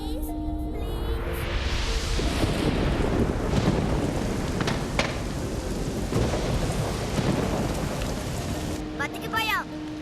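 Rain and rolling thunder in an animated movie: heavy thunder rumbles swell over steady rainfall, with brief voice and music fragments at the start and end.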